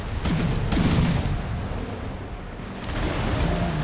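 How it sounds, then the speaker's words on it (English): A ship's starboard cannons fire in the pirate game Risen 3: Titan Lords, sending out several heavy booming blasts at uneven intervals, loud with a rumbling tail, followed by another rolling burst. "I want to get alongside it so I can fire my starboard cannons."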